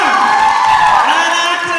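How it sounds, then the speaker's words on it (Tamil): A pageant audience fills the hall with loud applause and cheering, a dense, steady roar of clapping and whoops lasting under two seconds at full volume. "ஒரு பெரிய கைத்தட்டல் தரலாமா?"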